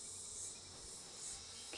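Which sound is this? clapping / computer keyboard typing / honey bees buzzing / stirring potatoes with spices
honey bees buzzing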